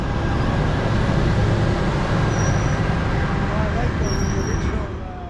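Saint Jerome line commuter train cars passing along a Montreal boulevard, a loud continuous rumble and roar up close with a faint squeal from the wheels or brakes.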